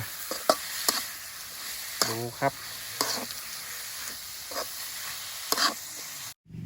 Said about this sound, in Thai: ผัด จนเนื้อปลาเนี่ย สะดุ้งสะดุ้งไฟ